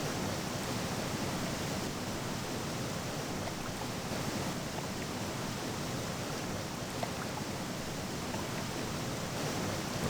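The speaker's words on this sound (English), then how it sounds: "this waterfall is impenetrable" Gothic 2 video game waterfall gives a constant, dense hiss of falling water, steady and even from start to finish, with no voices.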